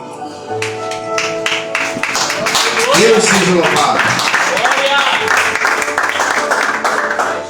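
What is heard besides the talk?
congregation applauding in church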